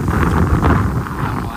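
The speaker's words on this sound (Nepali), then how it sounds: "हावा चाहिँ मिठो चलिरहेको छ" Wind blows steadily across the microphone with a broad rushing roar during a motorcycle ride from Ilam toward Upper Mustang, with someone talking over it.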